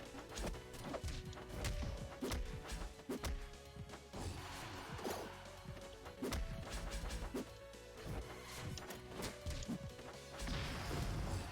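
Rapid, heavy smash-attack hits in a fighting video game, a dense barrage of sharp crashing thwacks and whooshes landing in quick irregular succession, loud and continuous throughout.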